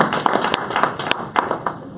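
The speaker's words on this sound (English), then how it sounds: "let's give another round of applause." Small audience applause in a workplace training session, a few separate people clapping close by in an uneven, scattered rhythm, brief and moderately loud.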